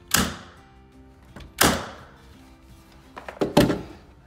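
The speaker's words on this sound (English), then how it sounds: "take your staple gun and put a couple staples right into the corner" Staple gun driving staples into the corner of stair carpet, three sharp separate thunks with a few lighter taps between them, close and fairly quiet.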